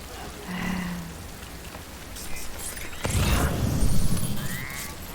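Steady rain pours without pause in the Death Stranding video game, a broad continuous hiss that swells louder in the second half, with a brief low tone near the start.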